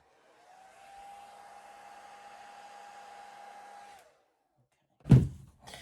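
A hair dryer blows steadily over acrylic fluid paint for about four seconds, a close constant whir with a hum, then cuts off before a brief loud thump near the end.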